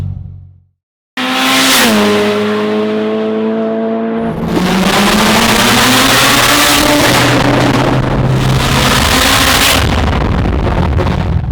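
A heavily modified Mitsubishi Evo 8 engine revs hard while driving, loud and close, rising through the gears with a turbo whine and some tire noise, after a brief silent start.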